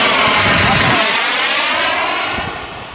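A model Sukhoi 27 jet roars loudly close by, a dense whining rush of engine noise that holds strong and then eases slightly toward the end.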